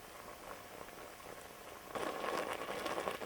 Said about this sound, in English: Once the porridge starts to thicken up, bubble, and splatter, you know it's ready